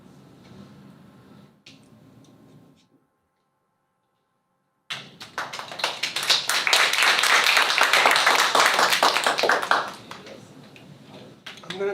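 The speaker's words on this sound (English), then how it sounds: "So we can clap again." An audience claps after a presentation, a burst of dense applause starting abruptly after a short silence, loud and sustained for several seconds before tapering off, preceded by faint room noise.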